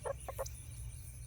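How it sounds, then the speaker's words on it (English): A chicken in a backyard garden lets out a few quick, soft clucks in a short burst near the start, then falls quiet against low background noise. "Chicken, what are you doing?"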